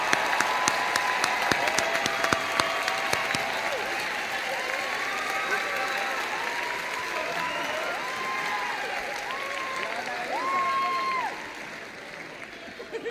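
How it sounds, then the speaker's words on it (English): A large crowd applauds at a college commencement ceremony, sustained dense clapping with cheers and whistles mixed in, holding steady for most of the stretch before easing near the end. "let's give the families one more round of applause"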